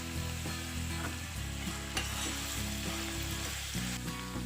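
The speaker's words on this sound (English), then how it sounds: "And into the garlic you'll add allspice balls and 2 cinnamon sticks." Garlic frying in a pan with allspice berries and cinnamon sticks gives a steady, close sizzle, broken by repeated scraping stirs, with no voices.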